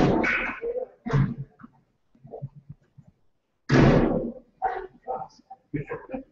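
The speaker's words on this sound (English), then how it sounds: "It's got the door closed." The door of a restored antique lead-acid battery electric car swings shut with one solid, close thump, set between stretches of someone talking.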